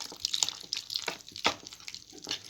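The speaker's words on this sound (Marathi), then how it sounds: "बघा, आपण आता यामध्ये थोडं थोडं पाणी ॲड करत आहोत." Water trickles in small splashes and drips into a bowl of dry batter mix in a kitchen, with irregular close pours and faint stirring between them.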